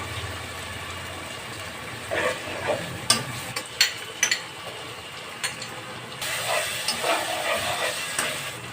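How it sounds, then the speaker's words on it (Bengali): Spice masala frying in a pan with a splash of milk for chicken dum biryani, giving a steady hiss and sizzle. Spoon scrapes and clinks rise in short bursts, then the sizzle grows louder and busier toward the end. "এখন অ্যাড করব সামান্য দুধ দিয়ে আমি মশলাটাকে ভালো করে কষিয়ে"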